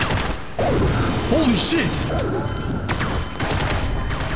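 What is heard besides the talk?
gunfire in the video game Half-Life 1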